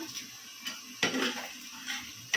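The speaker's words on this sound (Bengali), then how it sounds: "একটু পাঁচ মশলা দিয়ে দিলাম ও বাবা পেঁয়াজও দিয়ে দিলাম শুকনো মরিচও দিয়ে দিলাম" Five-spice, onion and dried chili fry in a cooking pot, with a faint background sizzle broken by a few sharp clanks and scrapes of a spoon against metal, close by and without voices.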